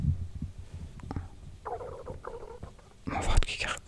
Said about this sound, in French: Mon ventre qui gargouille.